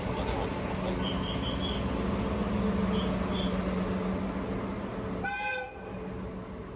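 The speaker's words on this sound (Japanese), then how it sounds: "こちらがトロッコ列車です。" Kyoto sightseeing trolley train with wooden seats, running through autumn scenery: a loud continuous rumble and clatter of wheels on rails fills the whole stretch, with a brief whistle near the end and faint voices underneath.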